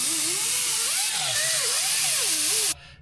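A rotary tool with an abrasive pad grinds old gasket material off metal down to bare surface on a 1969 Mustang fastback, giving a high, wavering whine that rises and dips in pitch before cutting off abruptly.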